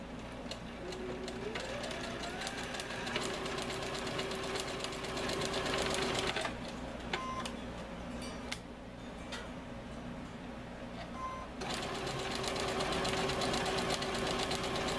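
A sewing machine driven by a foot pedal stitches an oven mitt in steady close-up bursts, stopping and restarting twice with brief pauses between runs.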